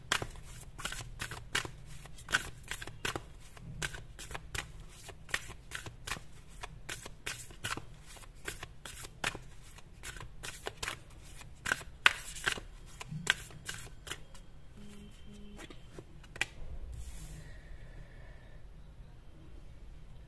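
Tarot cards shuffled steadily for about seventeen seconds in a tarot reading, a dense run of quick riffling and flicking snaps, close and moderately loud, easing off near the end into quiet handling.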